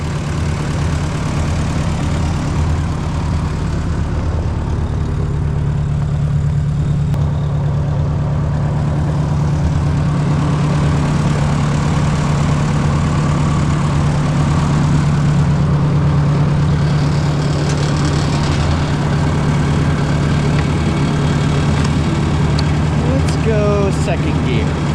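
A 6-volt Ford 601 series tractor engine runs on a freezing snowy day, making a steady, loud, low rumble that continues unbroken from start to finish.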